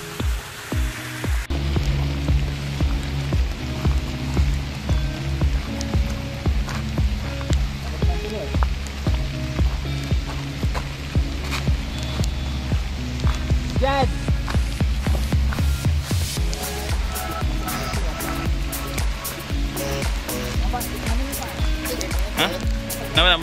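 Steady rain patters on a surface on the Rawang Bypass in Malaysia alongside a continuous low drone, with a voice speaking over it throughout.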